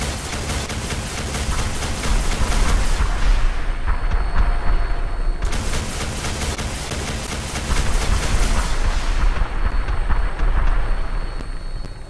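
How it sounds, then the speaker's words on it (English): Missile salvos firing from a Pchela Vertibird gunship with cryo missiles in Fallout 4, two loud sustained bursts of rumbling launches and blasts, each trailing off before the next volley. "cryo missiles"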